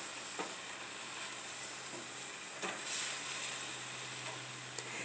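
Ingredients for nut sausage sautéing in a pan on a stovetop burner set to 6, giving a soft, steady sizzle and hiss close by, with a few faint stirring taps and no voices.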